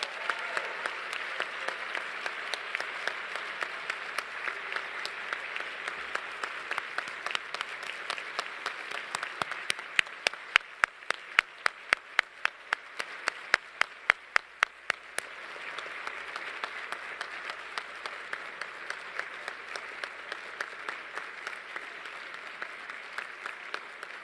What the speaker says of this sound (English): A round of applause for the 2010 graduating class.